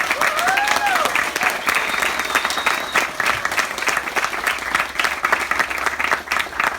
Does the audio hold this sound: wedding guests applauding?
yes